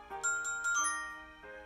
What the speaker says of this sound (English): I suddenly hear the telltale bells of a text message